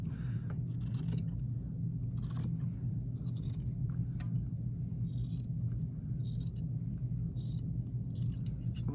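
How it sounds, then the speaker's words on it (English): Scissors trim a seam on a string-pieced quilt block, a run of short, close snips in irregular bursts over a low steady hum. "So again, trim your seam to a 1/4 inch."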